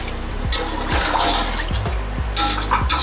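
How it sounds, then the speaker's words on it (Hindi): About a litre of water pours steadily into a pot of mutton kabsa, a continuous close splashing rush with a few light knocks against the pot. "अब इसमें हम तकरीबन 1 लीटर पानी ऐड करेंगे।"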